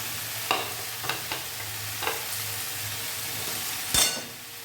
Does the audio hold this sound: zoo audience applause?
no